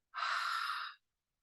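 A single long, breathy exhale during yoga breathing, close and soft, lasting under a second and followed by silence.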